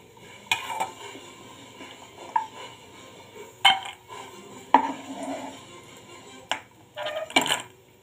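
Fried curry pieces scraped and moved into a bowl with metal utensils, giving scattered clinks and scrapes of metal on metal, several sharp knocks spaced apart over a quiet background.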